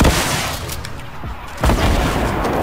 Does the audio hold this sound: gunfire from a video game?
yes